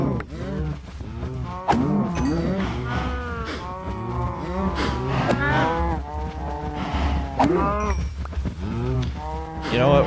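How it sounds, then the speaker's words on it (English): Cows moo repeatedly in a survival video game, several overlapping calls rising and falling throughout, fairly loud and close, with no talk over them. "Let's get some cows real quick."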